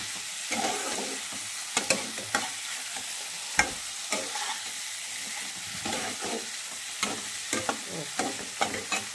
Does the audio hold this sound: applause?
no